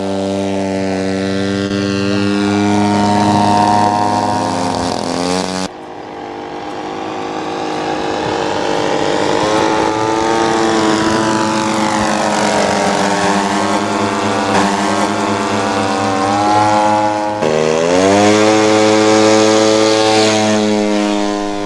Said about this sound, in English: It is the beat of the synchronised engines that give that pleasing sound.